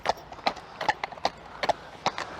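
A horse trots on a lunge circle, its hooves striking in a steady, even two-beat rhythm of sharp thuds. The footfalls are close and clear over faint background noise, with no talking.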